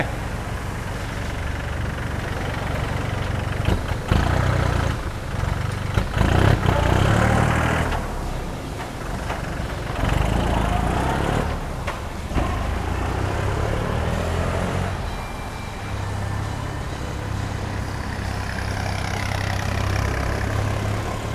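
An Iseki 42 hp tractor with a front dozer blade runs steadily, its low diesel engine rumble close and continuous, rising briefly in the middle and then settling back to an even idle. No one speaks.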